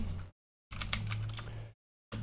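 Keystrokes on a computer keyboard come in two short bursts of quick, close clicking separated by silent gaps, with no talking.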